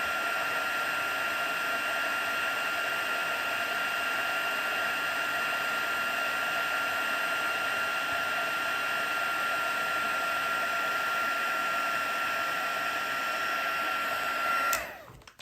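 A steady, loud whooshing hum of a heat tool blowing continuously while crafting a stamped card, cutting off abruptly at the end.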